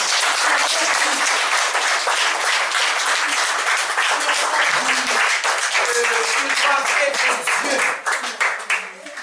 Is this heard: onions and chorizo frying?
no